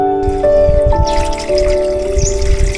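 Water from a spring fountain drips and trickles close by, with steady ringing tones running beneath the splashes.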